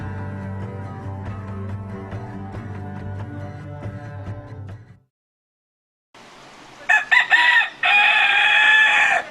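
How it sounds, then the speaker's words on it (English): A chicken clucks and crows loudly and close by, with a pause of silence between bursts and a sharp, rising call at the end. "Chickens have a surprisingly sophisticated communication system."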